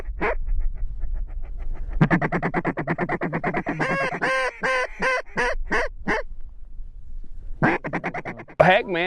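Mallard ducks and geese quack and honk in a rapid series of loud, close calls, bursts of overlapping squawks separated by short pauses, over a steady rumble of wind in the open.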